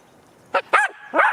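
Several dogs bark at an outdoor park estate, three short, loud yaps in quick succession with a gap before the last, fairly close, with no talking.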